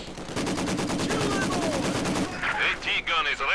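A Maxim machine gun rattles off a sustained rapid burst in the Company of Heroes 2 strategy game, steady close-range firing for about two seconds before a voice comes in over fainter battle noise.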